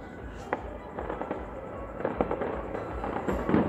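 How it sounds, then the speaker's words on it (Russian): Fireworks from a district anniversary celebration crack and pop in scattered bursts at a distance over a town square, with a few sharper bangs over a steady outdoor rumble. "О, салют."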